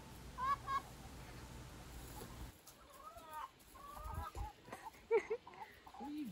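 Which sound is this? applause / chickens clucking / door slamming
chickens clucking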